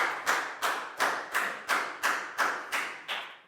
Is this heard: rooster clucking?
no